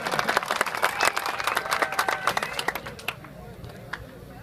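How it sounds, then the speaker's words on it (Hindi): Audience applause at a live comedy qawwali stage show, a dense patter of many hands clapping steadily for a few seconds before thinning out toward the end, with some voices mixed in. "आपकी तालियों में बताना आपको कैसा लगा?"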